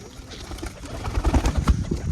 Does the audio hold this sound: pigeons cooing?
yes